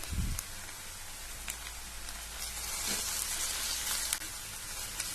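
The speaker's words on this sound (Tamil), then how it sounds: "இவர் நல்லா வதங்கிட்டு இருக்காரு." Curry leaves sizzle and crackle in hot oil for Chinthamani chicken, a steady frying hiss with a few sharp pops, moderately close and with no talking.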